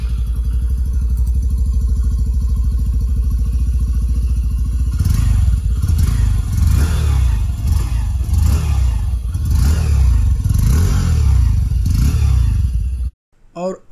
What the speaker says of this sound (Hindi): पहले आप सुन रहे हैं एग्जॉस्ट नोट पैशन प्रो का।